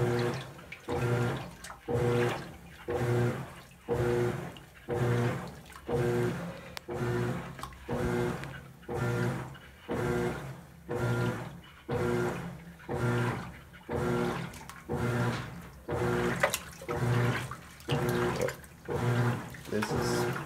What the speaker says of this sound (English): I'll just set it to rinse and drain out.